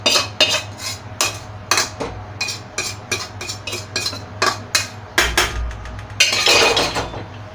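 Metal spoon scraping and clinking roasted dry fruits and makhana out of a pan onto a plate, a quick irregular series of sharp taps and scrapes, close and fairly loud, ending in a brief rougher scrape.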